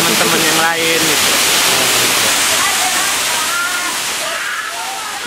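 Waterfall at Batu Putu, a broad steady roar of falling water that stays loud and constant throughout, with faint voices partly buried under the rush.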